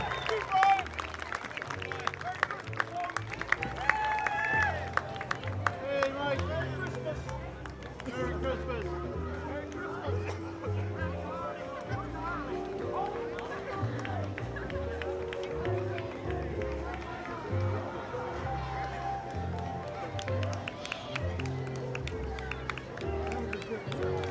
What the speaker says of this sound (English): big round of applause for the Wicomico County Sheriff's Office and your Salisbury Police Department as well